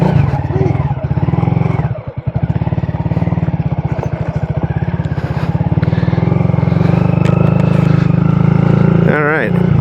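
A Honda Grom, a 2022 motorcycle, idles loudly and close, then gives a throttle blip with a rapid pulsing chug around two seconds and settles back into a steady engine drone. Someone talks over it.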